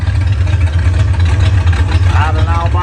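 A 1968 Ford Mustang engine idles close by with a steady, deep rumble throughout. Someone speaks briefly over it toward the end.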